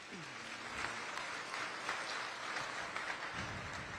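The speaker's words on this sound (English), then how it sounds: "All these kids out here in this particular class need a big round of applause." Spectators at a youth fair beef show clap for the children in a cattle class, a steady patter of applause in an indoor show ring with faint voices underneath.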